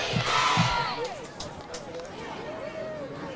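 A high school football crowd and the cheer squad shout and cheer in a loud burst at a home game, fading into ongoing crowd noise as an announcer talks over it.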